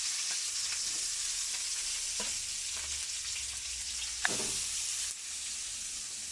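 Onions sautéing in a pan with cinnamon and cloves for a kurma, with a dense continuous sizzle and occasional soft stirring scrapes, close and steady throughout.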